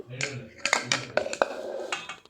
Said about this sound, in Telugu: వెంటనే మనకి రెడీ అయిన పాలకోవని ఈ ప్లేట్లో వేయాలి.